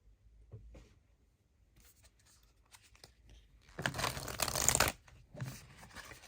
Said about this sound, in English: let's get you a couple cards from the Divine Abundance Oracle